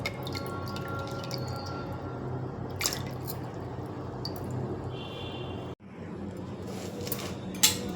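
Water drips and splashes softly while cabbage is washed, with scattered faint drops over a low background hum and a brief louder splash near the end.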